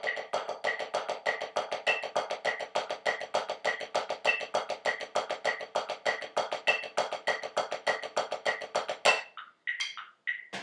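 Drumsticks play double-stroke sixteenth notes, right-right-left-left, at 100 beats per minute on a practice surface, a steady close run of crisp even taps ending with a few looser strokes.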